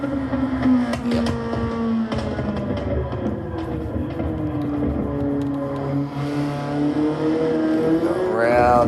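A small Abarth car's engine revs and drones steadily while driving through curves, its pitch rising and falling with throttle and climbing sharply near the end, loud and continuous throughout.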